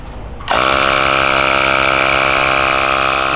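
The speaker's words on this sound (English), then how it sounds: "if I plug this compressor in, bearing in mind this is only a small compressor, and I switch it on" A small portable air compressor switches on at a circuit to inflate a car tyre, jumping from near silence into a loud, steady mechanical buzz with a strong constant hum that holds to the end.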